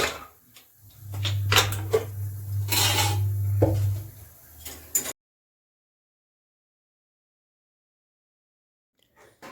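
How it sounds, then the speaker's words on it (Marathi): Metal cookware clanks and scrapes several times as potatoes are taken out of a pressure cooker, over a low steady hum, then everything falls silent for the remaining seconds. "या ठिकाणी आता आपण कुकरमध्ये आलू काढून घेऊया"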